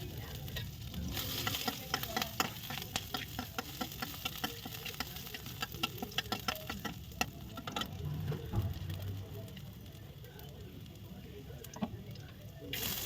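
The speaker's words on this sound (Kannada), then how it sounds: "ಕರಿ ನೆಕ್ಸ್ಟ್ ಮೆಣಸಿನ್ಕಾಯಿ ಹಾಕಿದೆ ಅದು ಸ್ವಲ್ಪ ಫ್ರೈ ಮಾಡ್ಕೋಬೇಕು" Curry leaves and green chillies fry in a pan with a steady sizzle, crackles and spatters across it, and a spoon scrapes and stirs now and then.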